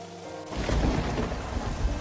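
Heavy rain pours on a road at night as a thunderclap breaks and rumbles, starting abruptly after a quiet moment and then holding as a dense, loud wash with no voices.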